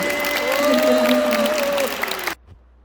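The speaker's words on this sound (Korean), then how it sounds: "우리 주님께 영광의 박수 한번 주시옵소서." A church congregation at a prayer-retreat revival service claps in praise, a full burst of applause with sustained tones from an organ or keyboard underneath, ending abruptly into near silence.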